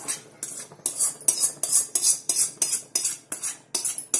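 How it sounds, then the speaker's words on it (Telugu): A utensil stirs fried chicken into tomato masala in a pan, with a steady run of about a dozen rhythmic scraping strokes, close and fairly loud. "ఇవన్నీ వేసుకొని నెమ్మదిగా ముక్కలు ఇరిగిపోకుండా కలిపేసుకోండి"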